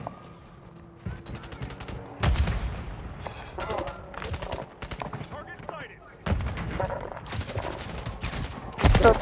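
Call of Duty gunfire crackles in repeated loud bursts, sharp rapid shots clustered in volleys separated by brief lulls, with game voices and other combat noise mixed in.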